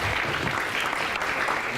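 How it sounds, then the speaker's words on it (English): Applause from the audience at a donor recognition luncheon, a full, continuous roar of many people clapping at once, loud and steady through the brief moment. "I got applause."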